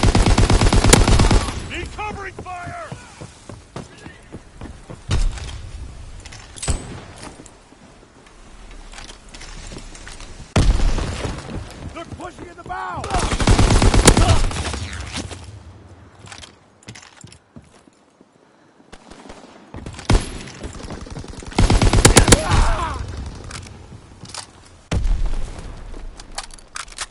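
Machine gun fire in Call of Duty WW2 comes in several loud, rapid bursts separated by quieter stretches of battlefield noise and game voices.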